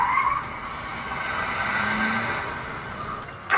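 Car tires skidding and squealing on the road, recorded on a dashcam, a sustained screech over engine noise that ends in a sudden sharp burst of impact.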